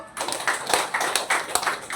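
Audience applause at a company foundation event stage program, a steady wash of many hands clapping with a few louder sharp claps, continuous and fairly close.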